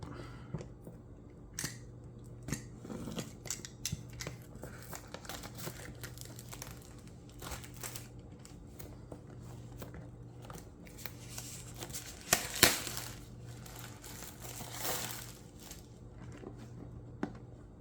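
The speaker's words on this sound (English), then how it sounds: "Nice packaging, it's all shrink wrapped. Let's go ahead and open it up." Crinkling and tearing of shrink-wrap plastic as a REDTIGER 4K front-and-rear dash cam box is opened up close, with scattered rustles, snips and handling sounds throughout.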